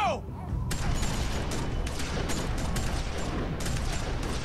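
Dense, rapid gunfire rattles without pause in The Walking Dead Season 2 video game, loud and close, with overlapping shots and bursts forming a continuous barrage.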